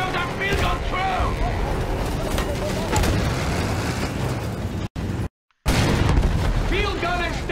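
Field gun explosion in the Battlefield 1 war video game, with loud booming blasts and battlefield rumble throughout, a brief dropout mid-way, and shouting voices over the noise.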